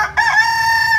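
A rooster crows loudly and close by, one sustained call of about a second, among backyard chickens on a small farm after a windstorm.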